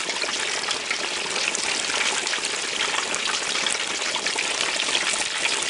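A whole turkey deep frying in hot oil bubbles and sizzles fiercely, a dense, even, hissing crackle that holds steady throughout at moderate level, with no voices.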